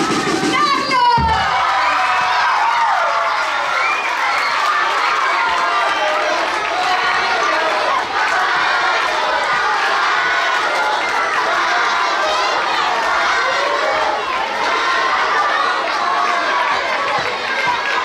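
A talent show audience erupts for the announced winner with loud, continuous cheering, shouting and excited crowd noise that stays dense and close throughout.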